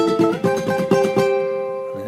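Ukulele picking the second part of a song's intro, a quick run of bright plucked notes played close, ringing out briefly at the end.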